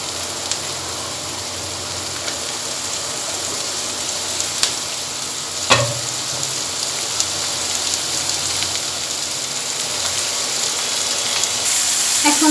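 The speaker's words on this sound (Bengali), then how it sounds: "আমি টমেটোগুলো দিয়ে দিব এখানে।" Tomatoes dropped into a hot pan with garlic and chopped onion, giving a steady, dense sizzle like rain that holds evenly throughout, with one brief clatter partway through and no talking.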